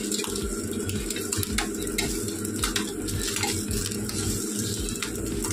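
A chapati cooks on a hot pan in a home kitchen at night, with a steady low sizzle and scattered light clinks and scrapes of utensils running throughout, no voices.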